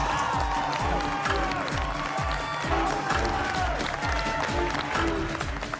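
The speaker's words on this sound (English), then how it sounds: "Everyone is here to cheer you on!" Crowd cheering a contestant in a televised cooking competition: continuous rhythmic clapping with shouts and whoops, busy and fairly loud, with voices calling out over it.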